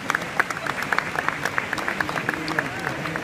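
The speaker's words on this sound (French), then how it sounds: "je vous demande de les applaudir." Brief burst of audience applause at a speech opening the 20th chocolate fair, with sharp individual claps standing out over a crowded, steady clapping bed.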